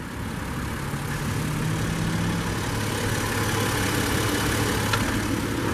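A 2018 Subaru Outback 3.6R Limited with its 3.6-liter horizontally opposed six-cylinder boxer engine idles smoothly, a low, steady hum heard from nearby with no talking.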